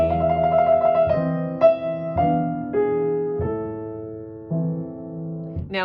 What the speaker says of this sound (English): If you're going to do an extended trill, my strongest recommendation would be to do it with fingers 1 and 3